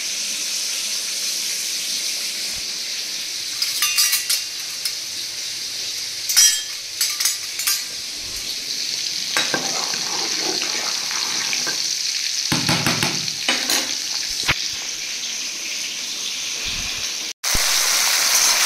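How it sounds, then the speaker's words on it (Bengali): Sliced pointed gourd fries in hot oil in a home kitchen pan, a steady loud sizzle with scattered crackles and occasional stirring scrapes, cut briefly near the end. "এখানে এখন পটলগুলো ভাজা হচ্ছে"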